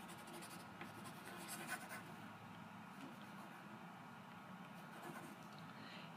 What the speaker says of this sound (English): Write it down silently.